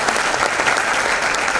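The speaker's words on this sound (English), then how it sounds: "Big round of applause for these guys." An audience at an edutainment show on design and media education gives sustained, dense applause at steady loudness, with no voices breaking through.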